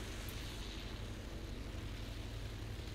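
A nearby plane engine in the video game Battlefield 1 gives a steady, dense, low droning roar that holds at an even level throughout, with no voices.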